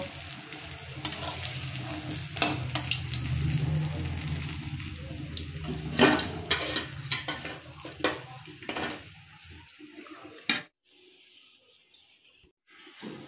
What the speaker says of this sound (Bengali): এইভাবে আমি আরও কিছুটা বেগুনি ভেজে নেব।